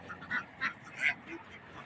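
Ducks quack on a countryside duck farm, a few short nasal calls spaced through the clip at moderate distance against a quiet background.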